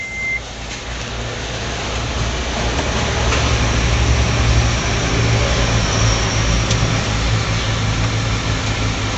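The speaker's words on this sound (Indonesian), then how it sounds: "ini udah nyala ya teman-teman, dan kompresornya juga jalan, fan-nya juga muter ya teman-teman ya" A Honda Brio engine idles steadily with its AC compressor engaged and the cooling fan spinning, a continuous low rumble and whir that stays fairly loud and even throughout, with no voices.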